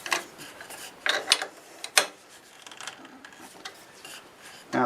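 Clicks and rasping turns as a wood lathe tailstock is brought up and tightened against a chuck's jaws, a few short sharp bursts in a quiet shop.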